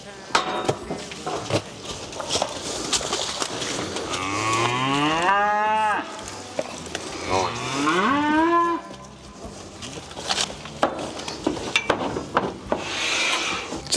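A cow on a regenerative farm moos in two long, loud, rising calls in the middle, set among rustling, rubbing and handling noises close by, with soft human voice sounds around it.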